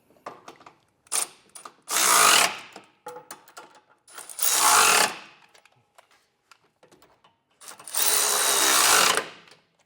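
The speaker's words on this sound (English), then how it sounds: "You can go back and snug them down with a 3/4 inch socket." Hitch receiver bolts on a 2021 Chevrolet Express are tightened with a 3/4 inch socket on a ratchet, giving three loud bursts of rapid clicking ratcheting separated by quieter handling noises.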